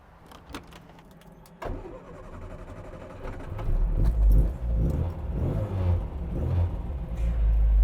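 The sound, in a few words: Mk 3 Mini Cooper S engine starting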